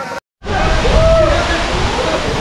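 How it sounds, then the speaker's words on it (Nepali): A waterfall near Saljhandi pours with a broad, steady roar that fills the scene after a brief cut-out at the start. The rushing water sounds loud and close, and no clear speech is heard. "अब भने यो म कालजनीको झरना देखाउन गइरहेको छु"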